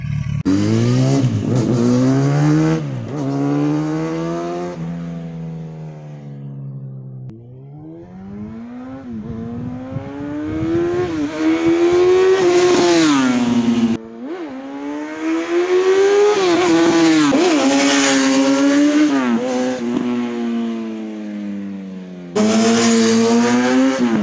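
A 150 hp roadster with a Road Italia exhaust revs hard and climbs to high RPM through repeated gear pulls, a loud, close, rasping engine note rising in pitch, dropping on shifts and climbing again, with no talking.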